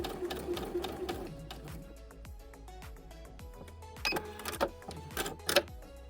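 Lion 9300S household sewing machine stitching fabric, a close mechanical whir with rapid needle clatter that slows toward the end, followed by a few louder clicks and knocks.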